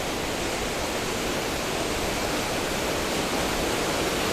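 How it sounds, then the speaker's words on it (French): Waterfall cascading inside the grotto at Buttes Chaumont park in Paris, a dense, constant roar of falling water, loud and unbroken. "Je me dirige vers la grotte, au centre de laquelle il y a la cascade."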